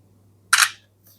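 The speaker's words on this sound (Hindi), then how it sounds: "तो एक पिक्चर में क्लिक कर लेता हूँ।" An Oppo A3x phone's 8-megapixel rear camera fires its shutter once, a short, crisp synthetic click about a quarter second long in an otherwise quiet room, with a faint low hum underneath.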